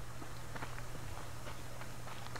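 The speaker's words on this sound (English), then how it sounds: "I like hearing the footsteps before I hear the shooting." Footsteps in the survival video game Subsistence tread in a steady, quiet rhythm of soft repeated steps beneath a constant low hum and background noise.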